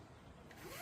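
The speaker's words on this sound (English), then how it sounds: "I'm just going to zip the cover down" A zipper on a raised garden bed cover is pulled closed in one short, quick zip, close and fairly quiet.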